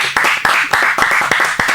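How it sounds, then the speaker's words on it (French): A few people clapping in a loose, uneven rhythm, about eight sharp claps close by, for a girl on a game show. "On va applaudir pour elle, s'il vous plaît."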